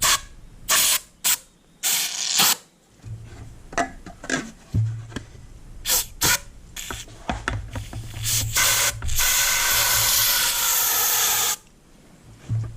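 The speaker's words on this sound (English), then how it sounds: "I'm just going to spray in a little bit of degreaser." Bursts of aerosol degreaser spray hiss into a tube on a Polaris Sportsman 500 A-arm bushing, short puffs at first, then a long steady spray before stopping, close and loud.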